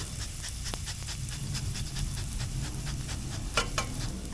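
Garlic toasting in olive oil in a pan gives a steady, close sizzle with a dense hiss, a few light clicks and scrapes, and louder crackles near the end.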